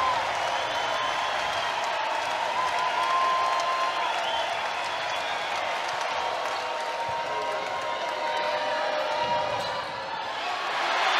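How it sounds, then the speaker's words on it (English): Crowd at a women's college volleyball match, Texas against Georgia, cheering and applauding after an ace, a dense sustained roar of voices and clapping filling the arena, with a commentator talking over it. "They are so excited for Carlson for getting an ace in this moment."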